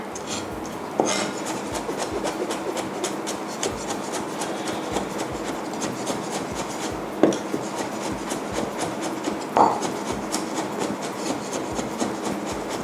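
A knife roughly chops ingredients for stir-fried lemongrass pork ribs, making quick, steady strikes on a cutting board that last throughout and are heard alone without voices.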